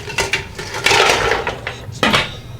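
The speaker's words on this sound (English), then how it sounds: "We're going to drop these clams in here." Clams dropped into a cooking pot for stuffed clams, giving a few close clattering knocks of shells against the pot, with a louder burst in the middle and another sharp clatter near the end.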